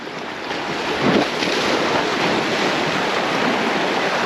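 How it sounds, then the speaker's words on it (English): Steady wash of ocean surf at Cala Vinyes, Mallorca, with waves breaking continuously on the shore, a slightly bigger swell surging early on, under wind buffeting the microphone. "and the occasional bigger wave"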